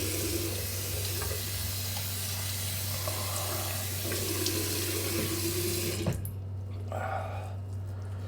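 Tap water runs steadily from a faucet to rinse an alum block, a continuous close splashing hiss that breaks and changes briefly near the end.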